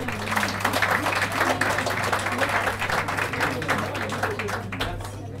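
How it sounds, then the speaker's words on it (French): An audience at a fashion launch event applauds warmly, many hands clapping in a thick, continuous patter that holds steady before thinning out near the end, with a low hum underneath. "Donc on va les applaudir s'il vous plaît"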